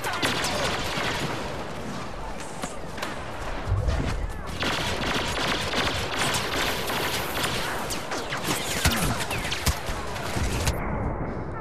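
Dense gunfire rattles through a Star Wars Battlefront Supremacy match, overlapping bursts and single shots cracking loud and close almost without pause, with a voice talking over parts of it.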